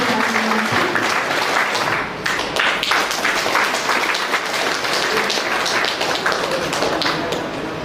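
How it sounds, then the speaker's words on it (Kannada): An audience applauds at a ceremony honouring students with top SSLC marks: loud, sustained clapping from a large crowd that keeps a steady level throughout. "SSLC ಹಂತದಲ್ಲಿ ಉತ್ತಮ ಅಂಕಗಳನ್ನು ಗಳಿಸಿ ಗೌರವವನ್ನು ಸ್ವೀಕರಿಸುತ್ತಿರುವಂತಹ ನಮ್ಮ ಪುಟಾಣಿ ಮಕ್ಕಳಿಗೆ ನಿಮ್ಮ ಚಪ್ಪಾಳೆಯ ಮೂಲಕ ಪ್ರೋತ್ಸಾಹ"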